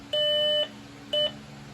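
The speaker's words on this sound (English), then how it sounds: "That'll shut off the piezo in the panel and the annunciator." Piezo sounder in a Simplex 4007ES fire alarm panel gives two steady electronic beeps, a long tone then a short one, loud and close over a faint background hum.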